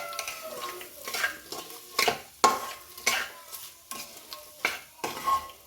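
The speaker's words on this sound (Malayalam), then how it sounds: "1 മിനിറ്റ് ഒന്നിങ്ങനെ വഴറ്റി കൊടുക്കാം" Salted potatoes being stirred and sautéed in a pan for a Kerala-style potato fry, with a steady close sizzle and repeated scraping clinks of a utensil against the pan at an irregular rhythm.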